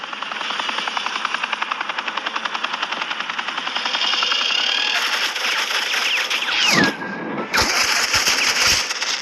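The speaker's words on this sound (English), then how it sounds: "suppressing fire" Rapid automatic gunfire laid down as suppressing fire in an animated Batman action scene, a steady fast rattle of shots that runs loud and continuous, then gives way to a whooshing sweep and scattered bursts near the end.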